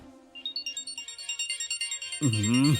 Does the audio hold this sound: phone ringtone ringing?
yes